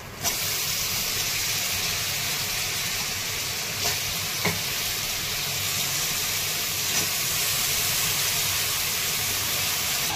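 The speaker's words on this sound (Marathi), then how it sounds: "त्याआधी मी थोडे फ्लावर आणि बटाटे परतून घेणार आहे" Cauliflower florets and potato pieces sautéing in hot oil, a loud, even hissing sizzle through the whole stretch with a few faint clinks of a utensil, near and unbroken, no one speaking.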